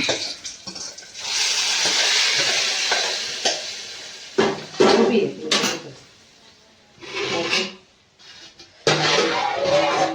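Garlic tempering (popu) hits a pot of sambar with a loud hiss that holds for a few seconds, followed by clattering kitchen noises and someone talking nearby.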